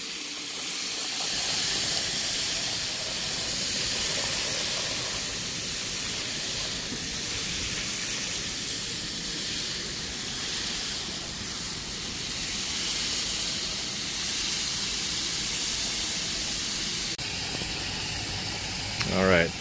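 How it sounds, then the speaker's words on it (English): A continuous hissing water spray is aimed straight down onto the coil of a Carrier package air conditioning unit, running steadily for most of the clip, with a brief clatter near the end. "I always like to try to spray straight down because you don't want to spray straight into the coil and push this gunk back into the coil"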